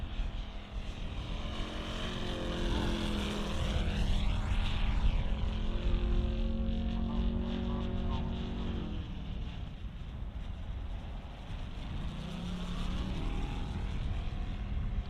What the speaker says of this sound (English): this engine is a McCoy 180 5-cylinder Radial 4-stroke engine